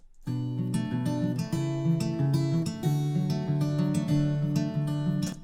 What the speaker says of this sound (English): I had this guitar chord progression and picking pattern in my mind already